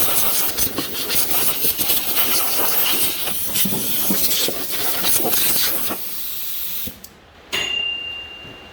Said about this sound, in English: put a rag down here in your air inlet to the carburetor and blow out this little compartment where the air filter goes